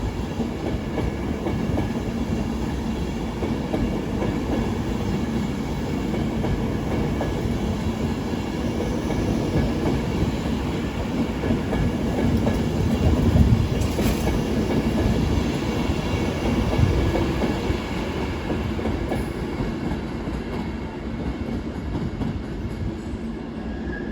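A Class 350 electric multiple unit at London Euston on the West Coast Main Line makes a sustained rumble and hum of wheels and traction. It swells slightly midway as it moves through the station, with faint clicks, and nobody speaks.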